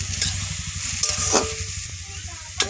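Curry is being stirred in a pan after salt and turmeric go in, with a steady close sizzle, scraping spoon strokes and a few sharper clanks.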